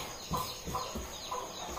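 A chicken clucks a few times in short, soft bursts close by, with quiet background noise between calls.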